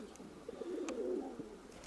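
Young pigeon squabs cooing softly from their nest, a low murmuring warble lasting about a second amid quiet background, with a faint higher chirp before it.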